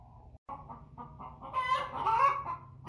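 An American Bresse broody hen clucks close by, giving a string of short, low clucks that build into a louder, drawn-out grumbling call.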